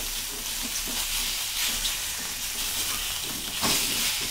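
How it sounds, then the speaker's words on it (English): Char kway teow noodles fry in a hot pan with a loud, continuous sizzle and hiss, steady and close, with occasional stirring scrapes and no talking. "let it sizzle"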